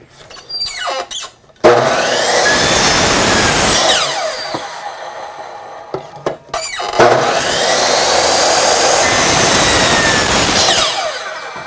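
Hand or power saw cutting the corner off wooden porch swing armrests, two long, loud rasping cuts separated by a short pause with lighter knocks and handling noises around them.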